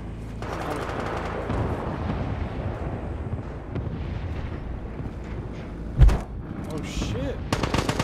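Gunfire and explosions in a first-person military shooter video game, a dense continuous barrage with a sharp loud blast near the middle and bursts near the end, with voices mixed in.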